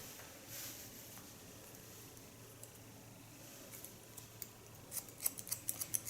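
Scissors cut hair during a haircut, a run of quick, close metallic snips that gets faster and louder toward the end over a quiet room hum.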